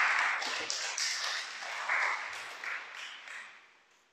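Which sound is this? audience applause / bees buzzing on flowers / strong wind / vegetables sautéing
audience applause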